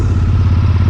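A Royal Enfield Interceptor 650 parallel-twin motorcycle fitted with a MotoWings performance exhaust, heard close and loud with a deep, steady throbbing engine note in city traffic.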